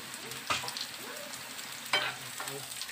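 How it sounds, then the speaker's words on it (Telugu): Cumin, split dal and chana dal fry in hot oil, a soft steady sizzle broken by two distinct spoon scrapes and clinks against the pan, near and fairly quiet, without speech. "ఇందులో కొంచెం జీలకర్ర, కొంచెం పప్పు, పచ్చిశనగపప్పు వేసి బాగా ఫ్రై చేసుకోవాలి"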